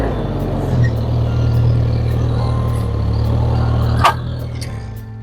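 Engine of a Vermeer mini skid steer idles and hums steadily at close range while backing up, with a sharp mechanical clunk near the end.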